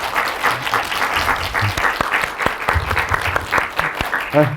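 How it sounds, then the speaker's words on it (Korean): An audience applauds a film director at a Korean film week academy talk, a dense steady wash of many hands clapping at once, loud and sustained, with a voice speaking over it. "배은주 감독님께 큰 박수 한번 부탁드릴게요"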